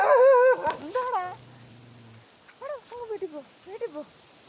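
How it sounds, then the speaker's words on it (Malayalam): Dogs howl and whine with rising, drawn-out cries, first loud and close, then a pause with a low steady hum before several shorter yelping howls return, more distant and uneven. "പട്ടികളൊക്കെ എന്നെ കടിക്കാൻ നിൽക്കുന്നു."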